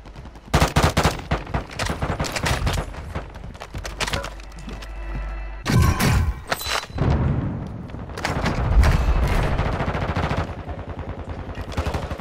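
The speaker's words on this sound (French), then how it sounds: "J'essuie des tirs." Bursts of gunfire from Call of Duty Modern Warfare II, with rapid automatic volleys and single loud shots recurring through a busy battle, close and dense, with no talking over it.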